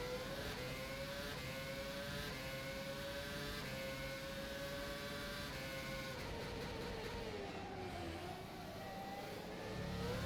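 A Formula One car in the rFactor 2 racing sim revs loudly and continuously, its engine note rising and falling through gear changes as the car slides and spins under unstable braking.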